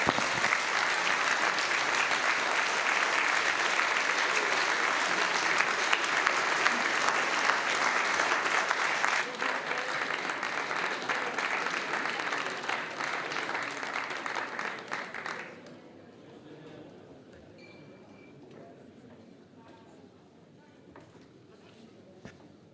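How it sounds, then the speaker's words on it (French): An audience at a municipal council meeting in Marly applauds loudly and steadily, then the clapping thins and fades away into quiet room noise for the last several seconds. "Et je vous demande de l'applaudir bien fort."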